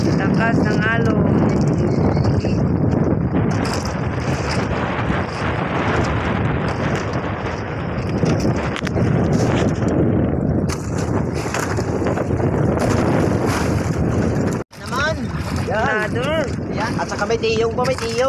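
Strong wind and rough sea waves around a small fishing boat, a loud continuous roar with wind buffeting the microphone and crashing water, while people talk over it.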